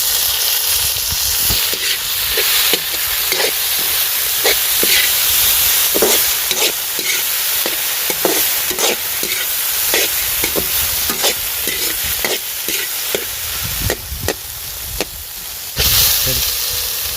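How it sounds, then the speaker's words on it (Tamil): Chopped tomatoes frying in a hot pan for Tamil egg kulambu, a loud continuous sizzle and hiss broken by repeated scraping strokes of a spoon stirring, heard close up. "நம்ம அரிஞ்சு வச்சிருக்க தக்காளி போட்டுப்போம்."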